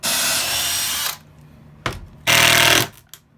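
Power drill driving screws into a wooden dining table in a bus home build, two loud whirring bursts with a short blip between them, close by, no talk.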